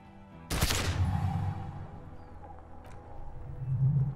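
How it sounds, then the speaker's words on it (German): A single pistol shot from a 9 mm gun in the video game Disco Elysium cracks out loudly and close, then rings and rumbles away over quiet background music. "Eine Wolke von Rauch und Feuer entlädt sich aus der Waffe."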